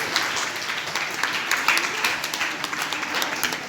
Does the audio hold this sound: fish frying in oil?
no